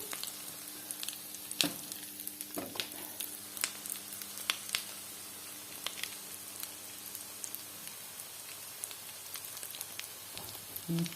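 Food fries in a hot pan with a steady, close crackling sizzle, scattered pops and sharp spits breaking through the continuous hiss, with no talking.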